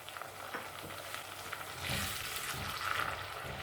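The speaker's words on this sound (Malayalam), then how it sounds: "എന്നിട്ട് ഒരുമാതിരി ഒന്ന് വഴറ്റിയെടുക്കാം." Thai green curry paste with lemongrass sizzles softly in a pan, a quiet steady frying hiss with occasional stirring scrapes and a brief swell of louder sizzling, no talk.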